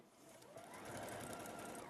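A sewing machine runs fast on a quarter-inch seam, making a steady, continuous high-speed stitching whir that holds at an even level from start to finish.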